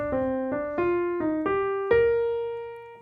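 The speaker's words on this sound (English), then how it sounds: "So the ascending arpeggio with both enclosures sounds like this," Plucked melodic notes climbing stepwise in an inverted melodic minor arpeggio, six clear attacks with small chromatic approach notes, the last note ringing out and fading, no voices.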